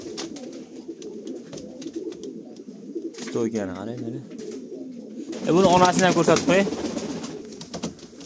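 Pigeons coo in bursts from a flock kept for breeding and sale, close by, with someone talking over them and fluttering and rustling between the calls.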